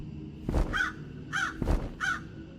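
A large crow caws several times in quick pairs, harsh and close, with a low background hum underneath.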